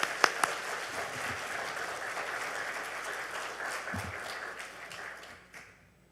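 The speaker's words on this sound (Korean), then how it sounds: "우리 목사님 나오실 때 더 커다란 또 환영의 박수로 맞아주시기를" A church congregation at a Sunday service applauds in welcome, soft, even clapping that sounds somewhat distant and fades out toward the close.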